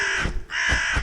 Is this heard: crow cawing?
yes